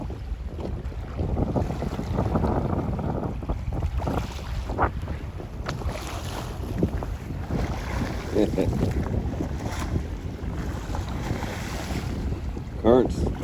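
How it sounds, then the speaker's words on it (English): Strong wind of about 15 knots buffets the microphone on open water during bay-scallop snorkeling off Crystal River on Florida's Gulf Coast, a loud, continuous rumbling roar with gusts and faint water splashes. "Well, actually, it's wind driven. 15-knot winds."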